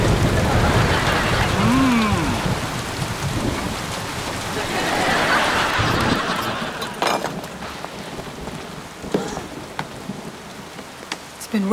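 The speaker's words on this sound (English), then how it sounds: "It's been raining all night" Steady rain pours down loudly through the first half, thinning later to scattered drops and patters, with a voice talking faintly under it in a scene set in a wizard school.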